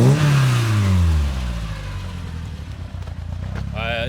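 A Corvette C6 engine revs up and falls back, running roughly with an uneven, rumbling tone, close and loud, with a brief higher whine near the end.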